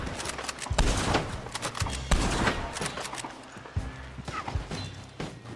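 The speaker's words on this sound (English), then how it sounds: "There is a machine gun wagon." Gunfire from a machine gun wagon and enemy shooters in a Red Dead Online mission, a dense, ragged stream of shots with heavier bursts, plus horse hooves and mechanical clatter mixed in.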